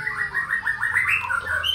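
Close, loud song of a long-tailed male white-rumped shama (murai batu), a tame bird just finished moulting, pouring out a rapid run of clear whistled phrases that rise and tumble with no voices over it.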